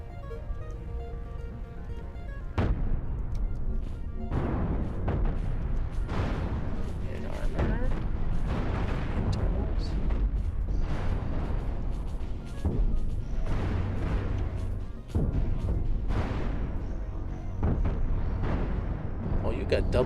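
Cannons on a six-cannon spaceship in the Cosmoteer space game fire in a dense, continuous barrage of booming shots and blasts, loud throughout, with a voice talking over the battle.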